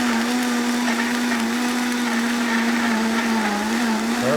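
A Vitamix blender runs steadily at high speed blending a sauce for Mexican dinner dishes, a loud continuous motor whine with churning that holds an even pitch throughout, with no talk.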